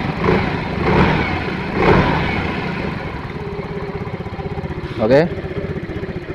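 A Yamaha Mio M3 scooter, newly reassembled after white-smoke and oil-loss trouble, idles with a steady low putter throughout, nearby, while someone speaks briefly over it at the start.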